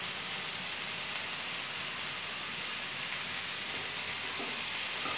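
Onions, tomato and green chillies sautéing in a pan for an egg thoran, giving a steady, even sizzle that holds at moderate level for the whole stretch, with no talking.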